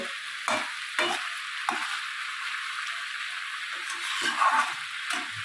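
Potatoes and cauliflower fry with a steady sizzle in a pan, broken by several scrapes and clacks of a spatula stirring them, close and moderately loud, with no talking.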